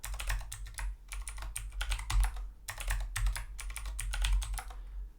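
Rapid bursts of keystrokes on a computer keyboard while a password is entered at a Palo Alto firewall login prompt, close and clear, in short rhythmic runs separated by brief pauses, with no talking.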